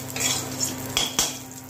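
Vegetables and eggplant pieces stirred in a frying pan with bay leaf, dried chilli and five-spice seeds, giving a soft steady sizzle with a few sharper scrapes of the spatula against the pan.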